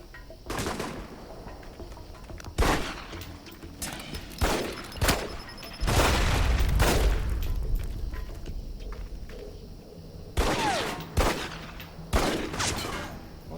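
Gunfire in the video game Alpha Protocol: sharp single shots and short bursts crack out irregularly over about thirteen seconds, loud and close, with a longer rumbling stretch in the middle and background ambience between the shots.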